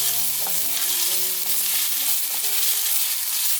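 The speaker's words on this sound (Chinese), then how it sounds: "放入姜末爆香" Minced ginger sizzles and crackles loudly in hot oil in a wok, a dense, continuous frying hiss that fills the whole stretch without any voices.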